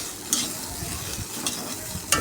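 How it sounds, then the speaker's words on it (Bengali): Whole garam masala, panch phoron and bay leaves fry in a wok, a dense close sizzle with a couple of sharp spatula clinks, steady and without talking. "আর কড়াইতে দিয়ে দিলাম গোটা গরম মশলা, পাঁচফোড়ন, তেজপাতা,"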